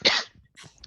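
A single person coughs once, sharp and close, during a Dungeons & Dragons actual-play session, followed by a short trailing breathy sound.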